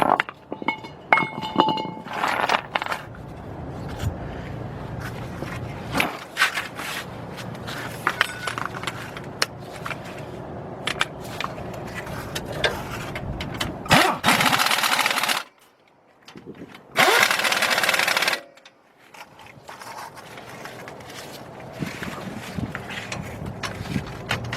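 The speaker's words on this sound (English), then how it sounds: "Now let's get our 18 millimeter. Somewhere around here. Here we go. And tighten them bolts up." Ratcheting and mechanical clatter from tightening the hub bolts with an 18 mm socket on a 2003 Chevy Trailblazer front hub, with loud bursts of rushing noise and near, busy workshop handling sounds throughout.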